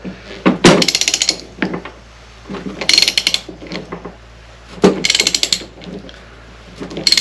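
A ratchet tightening a nut on the starter of a 1935 Austin 7, three loud close bursts of rapid clicking separated by quieter handling clunks, no talking.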